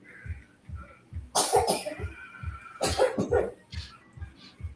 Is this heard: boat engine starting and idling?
no